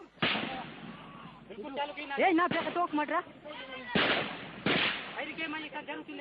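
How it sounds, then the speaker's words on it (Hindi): Gunfire during a Naxal ambush in a Chhattisgarh jungle: loud shots and bursts ring out over the scene, under excited voices and someone talking throughout. "जंगल में घात लगाए नक्सली कह रहे हैं, एक एक गोली निशाने पर लगाओ।"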